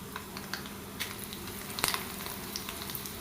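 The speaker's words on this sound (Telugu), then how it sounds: "దంచి పెట్టుకున్న ఉల్లిపాయలు ఒక 3-4 వేయండి. వేసి ఇవి కూడా దోరగా ఫ్రై అయ్యాక 4-5 ఎండుమిర్చి వేయండి." Crushed onions and dried red chillies frying in hot oil for a tempering, giving a steady close sizzle with small crackling pops throughout and no voices.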